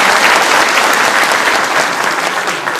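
A crowd at a direct-selling seminar bursts into loud, dense applause for Netsurf, a continuous roar of many hands that eases slightly toward the end.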